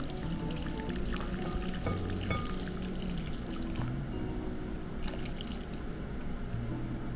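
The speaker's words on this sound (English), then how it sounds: "We're gonna pour it in to cover the bones." Liquid pours steadily over roasted bone marrow bones in a pan, a continuous close splashing and trickling pour with faint sizzle-like texture throughout.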